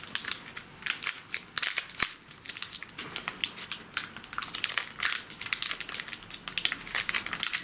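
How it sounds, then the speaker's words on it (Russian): Faint crinkling and crackling of a plastic candy wrapper in the background, irregular small rustles in a quiet room. "Кто-то там шуршит конфетой на заднем фоне."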